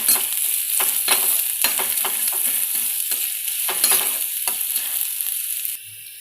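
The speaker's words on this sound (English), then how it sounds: "So friends, I have sauteed the onions," Onions sautéing in a pan for veg manchurian, a steady bright sizzle with repeated stirring scrapes and clatters throughout, close and fairly loud, ending abruptly near the end.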